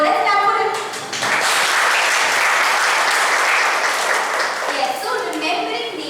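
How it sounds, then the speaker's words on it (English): Audience applause at an Indian Academy of Training and Development train-the-trainer session, a broad steady wash of clapping lasting several seconds, with talking just before and after it. "So let's clap for it."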